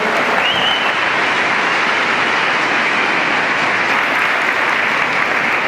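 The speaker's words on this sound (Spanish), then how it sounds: "Denle un aplauso al Señor." A church congregation applauds at a Spanish-language worship service, a steady, dense wash of clapping that holds at full strength for several seconds with no pauses.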